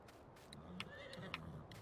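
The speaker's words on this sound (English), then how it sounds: "There's a grey horse for you." A grey horse in the farming game Farming Simulator 19 gives a faint, brief whinny over a low, steady background hiss, with a couple of soft clicks around it.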